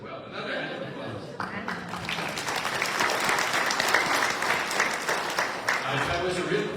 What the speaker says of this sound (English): Another hand of applause.